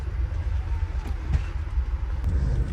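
Inside a moving passenger train, a steady low rumble and hum of the carriage fills the space, with a few faint clicks and knocks over the continuous rolling noise.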